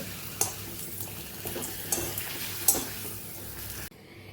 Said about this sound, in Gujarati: એ જ તેલની અંદર આપણે માંડવીના દાણાને પણ સરસ શેકી લેવાના છે